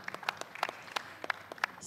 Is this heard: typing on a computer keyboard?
no